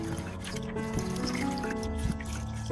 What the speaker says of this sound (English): I prepared a clean basin to thoroughly clean the entire orchid plant with clean water